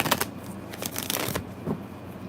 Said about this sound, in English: I'm gonna shuffle real good.